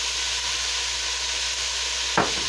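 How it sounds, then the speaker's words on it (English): Vegetables cooking in a soup pot with a constant close sizzle and hiss, and a single scrape of stirring near the end. "So we'll just stir those around"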